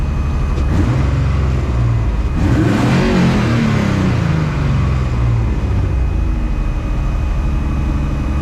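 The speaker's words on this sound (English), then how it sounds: "So this time I'm gonna do a burnout" A car on worn, chunked tires does a burnout at a drag strip during a drag racing competition, its engine roaring loud and sustained with a rising rev and screeching tire noise throughout.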